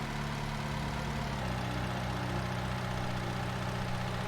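Tractor engine idling in Farming Simulator 19, a low, steady diesel rumble with an even throbbing pulse, fairly quiet and unbroken, with no talk over it.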